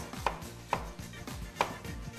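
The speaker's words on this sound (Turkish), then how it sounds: "Şöyle bir adet soğanımızı doğrayalım." A knife chops an onion on a cutting board in sharp, irregular taps, quiet and close, with no voices.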